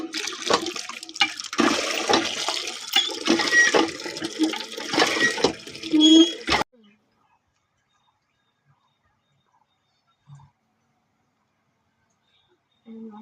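Water pours hard from a tap for a bath, a loud steady gush with a voice over it, then it cuts off abruptly halfway through, leaving near silence with a few faint knocks.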